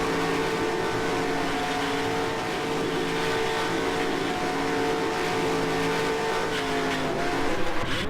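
Stock car engine in the NR2003 racing sim howls steadily at high revs as the car slides out of control toward a crash, with tire squeal and scraping rising near the end, loud and continuous with no voices.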